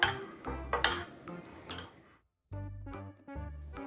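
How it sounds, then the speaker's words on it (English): A spoon stirs melted gummy candy slime in a bowl, making several sharp ringing clinks and scrapes against the dish. After a brief pause the utensil taps and rings again. "Now I'm just gonna mix it."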